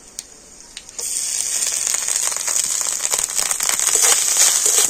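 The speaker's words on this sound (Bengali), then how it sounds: "তো প্রথমে নারকেল কুড়োটা একটুখানি এইভাবে ভেজে নেব।" Grated coconut sizzles in hot oil in a pan: a bright, steady crackling fry that swells suddenly as the coconut goes in, then continues with crisp pops, close and alone.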